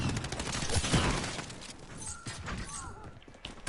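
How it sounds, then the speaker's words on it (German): Gunfire in the Call of Duty Modern Warfare video game, with shots overlapping a loud stream of game effects and clatter for a few seconds, plus a sharp final blast at the end. "Stimmt der mit seiner scheiß Pumpgun, schießt 9-mal daneben und im 10. Schuss trifft er dann."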